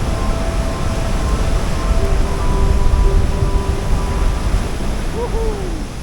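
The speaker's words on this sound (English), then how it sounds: "As you can see, I'm pretty close to where the splashes are hitting." Ocean waves surge and splash against rocks at the sea caverns of Chin Beach on Vancouver Island's Juan de Fuca Trail, a steady loud broadband wash close by, with faint tonal hoots over the surf and no talk.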